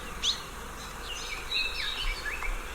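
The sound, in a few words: Hawaiian birds singing, including endangered Akikiki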